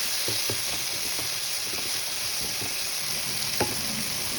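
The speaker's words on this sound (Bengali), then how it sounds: "এবার টমেটোটা একটুখানি নরম হওয়া অবধি আমি একটুখানি নেড়ে নেব।" Tomato and green chili frying in a pan as they are stirred, a steady sizzle with a few soft scraping stirs and one sharper knock near the end, no talking.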